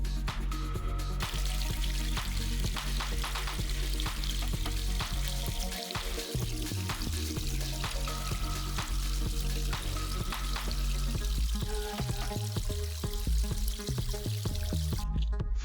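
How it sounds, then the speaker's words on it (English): Expanding foam sealant sprayed between stones of a DIY backyard waterfall, a continuous hissing, sputtering spray with crackly bursts, close and fairly loud, cutting off near the end, no voices. "Apply isolating foam to make water flow only over the spilled stone."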